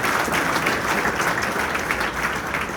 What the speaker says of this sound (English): Let's give them a round of applause even though they're not here